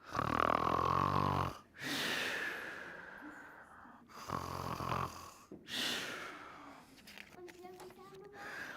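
Loud snoring with rasping inhales and snorting exhales, repeated several times, mixed with voiced gasps and a child-like voice imitating the snores.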